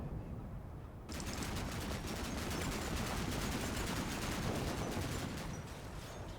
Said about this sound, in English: it was firing high explosive air bursting rounds at that Humvee